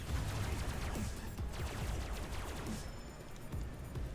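A tank in Robocraft dumps plasma weapon fire in a rapid, crackling barrage of shots with sharp impacts. The sound is moderately faint and continuous, and no voices are heard.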